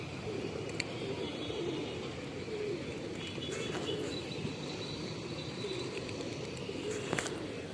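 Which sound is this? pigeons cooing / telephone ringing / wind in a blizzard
pigeons cooing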